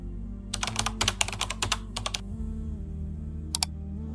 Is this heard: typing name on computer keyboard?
yes